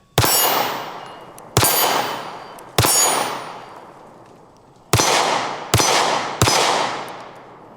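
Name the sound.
pistol shots being fired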